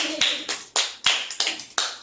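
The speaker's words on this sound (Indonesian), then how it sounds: "Tepuk tangan dulu untuk Kak Gendi." Children in a classroom clap their hands in a quick rhythmic pattern, several sharp claps in short bursts, fairly faint and without talk.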